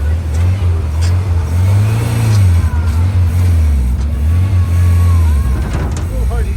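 A Volkswagen Beetle engine in a homebuilt Jeep-style vehicle runs loudly nearby on dirt, its low rumble rising and falling as the throttle varies, the carburetor struggling, with a voice faintly underneath.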